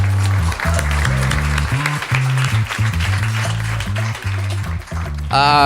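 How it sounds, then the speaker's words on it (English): A comedy-night crowd at the Cambridge Hotel claps for comedian Matty B as he takes the stage, the applause sitting under loud, thumping walk-on music with a steady beat. "round of applause for Mr. Matty B."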